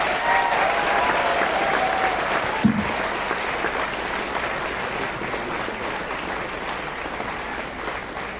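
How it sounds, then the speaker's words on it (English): Steady, dense applause from the audience at an inauguration ceremony for a Phase II capacity expansion project in Meghalaya, sustained evenly throughout with no speech over it. "I request everyone to kindly give a round of applause."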